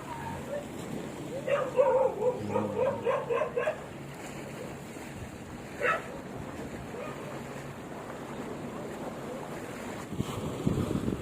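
A dog barks in a quick run of several barks, then once more later, at a moderate distance over wind and surf at the Khao Phra Tamnak seaside viewpoint in Chonburi, Thailand.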